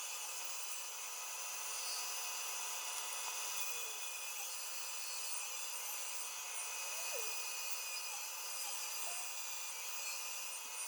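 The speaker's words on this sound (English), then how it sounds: "And over to the bandsaw to cut these out." A bandsaw cuts scrap wood pieces into small gnome figures, giving a steady, continuous hissing rasp with a constant level throughout, no talking.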